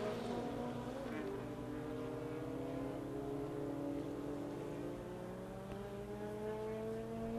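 Fórmula Super B race cars from the 2017 season, compact short open-wheel racers on a Uruguayan circuit, drone past with a steady, loud engine roar whose pitch slowly climbs and shifts as several cars run together.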